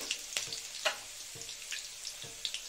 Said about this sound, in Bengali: এই রসুন কুচি দিয়ে দিলাম।